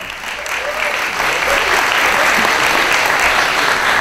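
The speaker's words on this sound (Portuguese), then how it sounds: "Aplausos para Andrea Rizzo." Loud, sustained applause from a talent show audience, building in the first second and then holding as a dense, even roar of clapping with some crowd noise mixed in.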